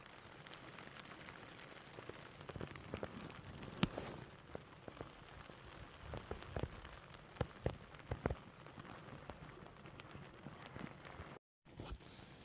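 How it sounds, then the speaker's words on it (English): Early-morning rain falling on a walker on a hill route between Arrochar and Lochgoilhead, a soft steady patter with sharper drops and occasional footstep-like taps, fairly quiet throughout. "it is raining, and it is due to rain all day"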